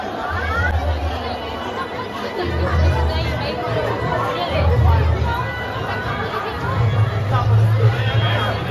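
A large, dense crowd packs the Govind Dev Ji temple during the Faag festival, its chatter and babble a continuous loud hubbub close around with a low steady drone underneath.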